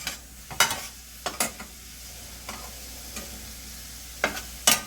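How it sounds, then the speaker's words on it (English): Salmon in West Indian papaya chutney stirred in a pan on the stove, a low steady sizzle with several sharp spoon scrapes and knocks against the pan at irregular intervals, close by and without talk. "A little bit of the Maggi fish, a little bit. I'm gonna stir again."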